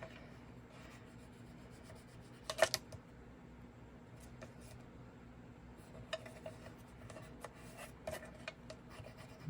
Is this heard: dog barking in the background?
no